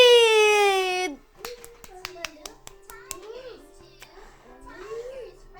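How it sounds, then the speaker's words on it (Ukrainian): A few scattered handclaps from a small audience at a children's stage show, sharp and separate rather than a full ovation, following a child's drawn-out voice at the start, with faint voices between the claps. "Оплески!"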